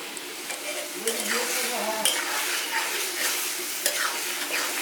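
Snail meat with poppy seeds is stirred and fried in a pan, reducing its water. Soft sizzling runs throughout under repeated scraping strokes of a spoon against the pan, with occasional light clinks.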